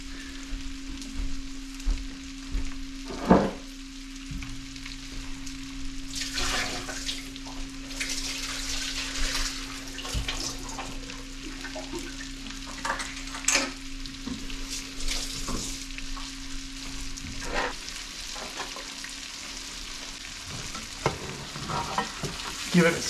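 Walleye fillets frying in butter in a pan, a continuous soft sizzle with occasional sharper crackles and stirring scrapes, close and alone without speech.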